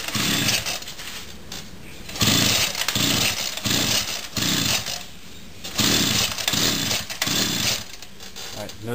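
A small weedeater engine on a homemade bike fires up and runs close and loud, with a raspy buzz that surges and drops in repeated bursts as the throttle rises and falls.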